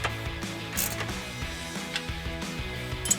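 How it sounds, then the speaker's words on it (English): A 13 mm ratchet wrench tightens a pinch bolt while installing nerf side step bars on a 2019-2024 RAM 2500, giving steady mechanical clicking with faint creaks, quiet and close, no voices. "We're gonna grab a 13 millimeter ratchet wrench and a 13 millimeter wrench."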